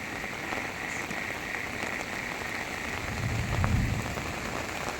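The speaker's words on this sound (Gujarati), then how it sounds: "જિલ્લો ભાવનગરની અંદર વરસાદ તાબડતોડ પડી રહ્યો છે" Heavy rain pours steadily on a village in Bhavnagar district, a dense, loud, unbroken hiss of rainfall, with frogs croaking faintly underneath.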